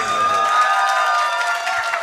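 Audience at a mushaira breaking into applause and cheering, a dense continuous wash of clapping from a crowd that holds steady for the whole stretch.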